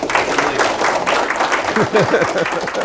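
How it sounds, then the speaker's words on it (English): Steady applause from a conference audience after a talk fills the whole stretch, dense clapping without pause. "Give Sean a round of applause."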